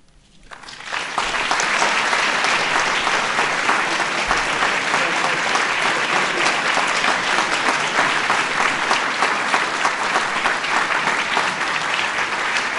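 Sustained, loud applause from a large ceremony audience honoring recipients of national medals of science and technology at the White House, a thick continuous wash of clapping that swells quickly and holds steady.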